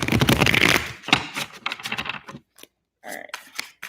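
Tarot cards are shuffled up close in several quick riffling bursts, a papery flutter followed by scattered taps and short pauses.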